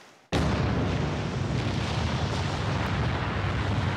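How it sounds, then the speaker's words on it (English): A sudden, massive boom of a volcanic eruption erupts and then roars on as a dense, sustained rumbling blast, loud and broadband for several seconds. "Just colossal explosion. And it went like this."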